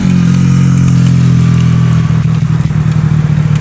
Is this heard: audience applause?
no